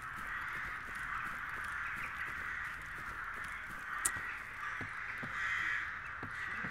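Crows caw repeatedly in the video game Stalker Anomaly, scattered calls from several birds over a steady windy ambient bed, with one sharper, louder caw near the middle; no one talks.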